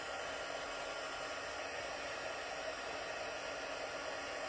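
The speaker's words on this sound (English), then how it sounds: "I'm going to just give this a shot with my heat gun. Just dry that out. It's kind of loud." A heat gun blows steadily to dry a handmade birthday card, a loud, continuous close-up whoosh of air with no breaks.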